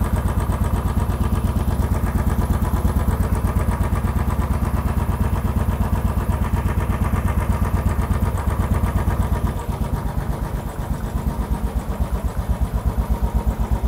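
A cold Royal Enfield Classic 500 single-cylinder motorcycle idles up close, its steady, loud, even thumping pulse running throughout with a slight dip in level near the end.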